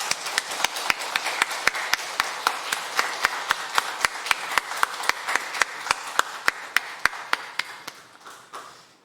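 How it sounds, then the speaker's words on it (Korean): A church congregation at a Sunday service claps in unison, sharp evenly spaced claps keeping a steady rhythm for several seconds before tapering off at the end. "위대하신 하나님 앞에 우리도 힘찬 박수로 영광 돌리겠습니다"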